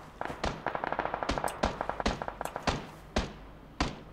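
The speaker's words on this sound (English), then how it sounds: "Oh, there's gunfire near us." Gunfire in the battle royale game PUBG: a rapid burst of sharp shots followed by a few spaced single cracks, fairly close and crisp, with no talk over them.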